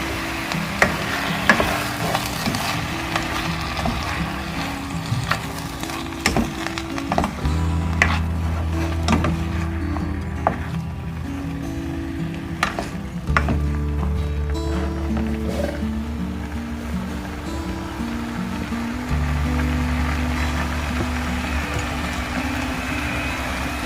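Steady crackling sizzle of mushrooms frying in a pan, with occasional clinks and scrapes of stirring over a low droning hum.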